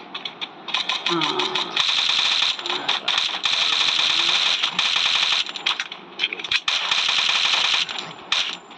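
Repeated bursts of rapid automatic video game gunfire crackle loudly, broken by short pauses, while a voice talks underneath.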